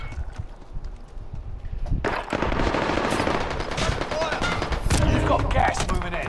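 Rapid automatic gunfire in the video game Call of Duty: Modern Warfare, loud dense bursts that swell into a near-continuous volley, with some talk mixed in.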